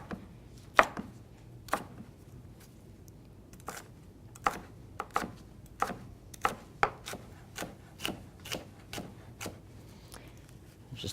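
A knife chops vegetables into quarter-inch julienne strips on a cutting board for corn and avocado salsa, giving a steady run of about twenty crisp, close knocks at an unhurried, fairly even pace, with no talk.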